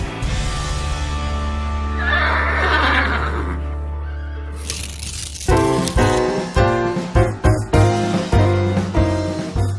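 A horse lets out a long, loud, wavering whinny that fades out. Sharp rhythmic thumps follow, with no talking.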